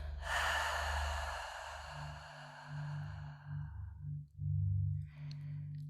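Slow, deep breath drawn in and let out in a long, soft exhale during a calm guided relaxation, close and unhurried, with a faint low hum beneath and a second quieter breath toward the end.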